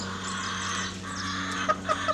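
A bantam rooster, offspring of a naked-neck blue-egg hen, gives a few short, soft clucks toward the end over a steady low background hum.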